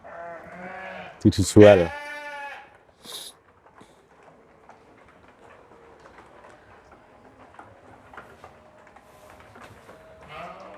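An F1 Suffolk ewe gives a loud, close bleat, with a shorter call following, amid a farm pen; someone speaks briefly before and over it, then faint rustling and distant animal sounds continue.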